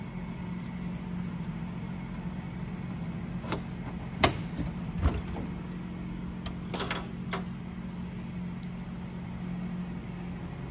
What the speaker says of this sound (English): See if I can hit the trunk key right on the first try.